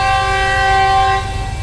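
A train horn sounds loud and sustained as a train arrives at a rural location, holding a steady tone for over a second before fading, with low rumbling of the train beneath.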